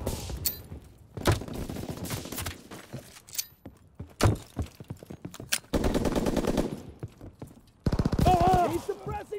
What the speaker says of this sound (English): He's suppressing fire!